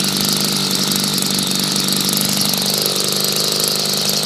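A 43670 LT26 line trimmer's small engine idles after starting, a steady close-up hum that holds at an even level throughout with no talking.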